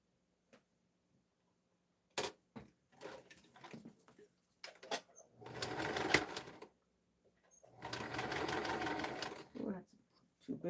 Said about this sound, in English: Oh, that's too big of a stitch.